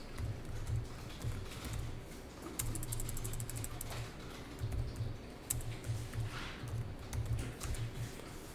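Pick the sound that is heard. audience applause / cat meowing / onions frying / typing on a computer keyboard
typing on a computer keyboard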